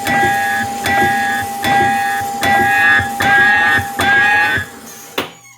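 A loud Gottlieb Nudge-It arcade machine pounds out a repeating cycle of metallic clanks and ringing tones, six heavy beats close up, then a final sharp hit.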